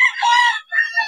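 Rooster crowing loudly and close at a chicken market, one sharp crow split by a brief break, with no talk over it.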